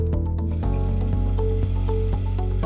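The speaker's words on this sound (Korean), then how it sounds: "그리고 미리 준비한 닭육수를 넣어줄게요." Chicken stock is poured into a pot of chili con carne with Worcestershire sauce and tomato paste, making a close, steady gurgling fill with squishy drips over a constant background.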